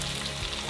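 Salmon fillet searing in a hot Emeril Lagasse Forever pan, a steady close sizzle and crackle of fat with no pauses, ending in a brief louder pop.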